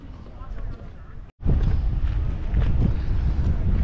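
Strong wind blowing at Waterton, Canada, a loud, steady roar of gusts buffeting the microphone, cutting out briefly before returning even harder and continuing without pause.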